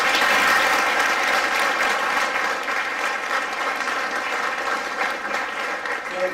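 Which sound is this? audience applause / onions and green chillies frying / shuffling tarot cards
audience applause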